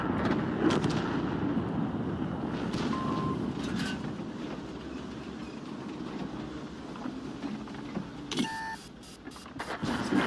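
Tank guns firing in World of Tanks, a few sharp shots scattered over a steady low rumble of engine and battlefield noise, with a cluster of bright impacts near the end.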